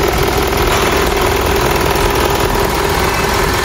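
A 4JJ1-13 twin-turbo diesel engine in a four-wheeler dropside truck idles loudly and close by, with a steady, even rumble and a faint mechanical clatter that carries through the whole stretch.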